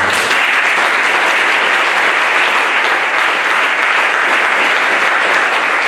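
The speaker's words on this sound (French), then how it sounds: "vous pouvez tenir debout et acclamer puissamment le Seigneur?" A church congregation applauds and cheers loudly and steadily, a dense roar of clapping that fills the hall throughout, gathered for a baptism and disciples' graduation service.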